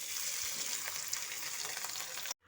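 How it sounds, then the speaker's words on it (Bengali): Small fish fry in hot mustard oil in a pan, a faint, steady crackling sizzle with no voices that stops abruptly at the end. "আমি মাছটা ভাজার জন্য সরষের তেল গরম করতে বসিয়ে দিয়েছি"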